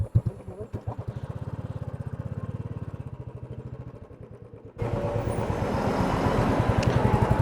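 A motorcycle engine putters in a rapid, even rhythm near a fuel station as the bike is moved aside, then it revs up louder and rougher after a sudden change.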